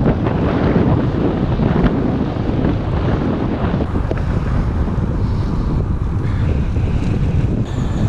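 Steady roar of wind buffeting the microphone from a headwind while cycling on a road bike during a 100 km audax ride through Derbyshire and Nottinghamshire, continuous and loud with no talk.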